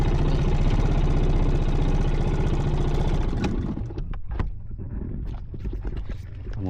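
A Honda motorcycle engine idles with a steady low rumble for several seconds, then cuts out, leaving scattered clicks and knocks.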